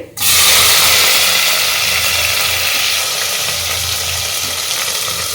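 Mustard seeds tempering in hot oil for sambar give a loud, steady, close sizzling hiss that starts abruptly and holds for several seconds, with a faint low hum beneath and no talking.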